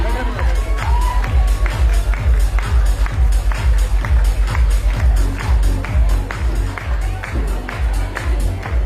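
Loud, dense audience applause and cheering at a Queens Day women's event, with rhythmic clapping throughout and crowd babble mixed in.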